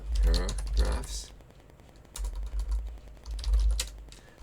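Python code is typed on a computer keyboard in quick, close clicking bursts, with someone talking between and over the keystrokes.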